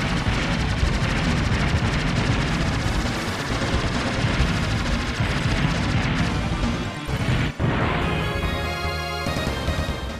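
Dense, loud bursts of rapid gunfire and crashing explosions pour out of the SNES shoot 'em up Aero Fighters, barely pausing before another roaring volley near the end.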